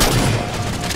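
A Scorpion tank cannon blast in Halo 4 lands as one loud, broad boom at the start, then a rumbling decay that stays dense and noisy to the end.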